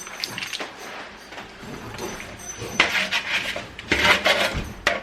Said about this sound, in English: I just dumped the pan, the grease from the pan that I made the bacon in